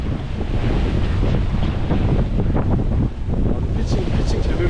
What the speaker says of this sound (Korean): 역풍에다가 완전히 바람 엄청 불고 있습니다